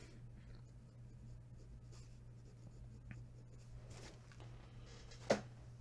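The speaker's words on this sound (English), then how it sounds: "So let me write it down." Pen writing a list by hand on paper, soft faint scratching strokes under a steady low hum, ending with one louder tap or scrape, no talking.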